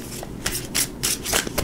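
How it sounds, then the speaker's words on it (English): A tarot card deck is shuffled by hand in a series of quick riffling bursts, about five crisp rustling flurries close to the microphone with short pauses between them. "2 more shuffles, 8-card spread."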